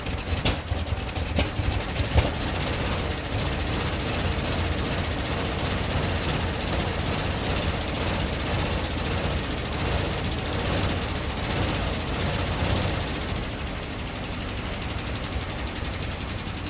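A 1974 Ford F-100 4x4 engine idles steadily in a continuous, rough low rumble with some mechanical rattle throughout, loud and unbroken after a few early knocks.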